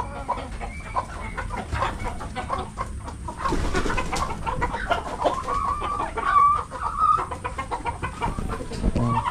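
Darag native chickens on a farm, clucking repeatedly at close range, with a few louder squawking calls midway and other birds and farmyard background throughout.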